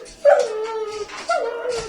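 A dog whimpers twice, close and clear: two high, drawn-out whining cries, each starting with a sharp yelp and then trailing off, heard on their own.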